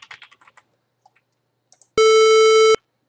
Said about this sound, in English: we could change it to, I think we have a sine wave